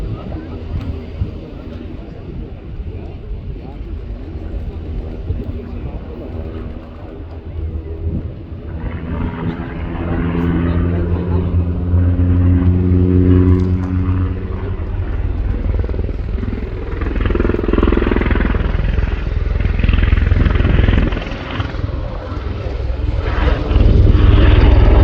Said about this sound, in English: Through 90 degrees, accelerating from 45 knots for a 120-knot flypast.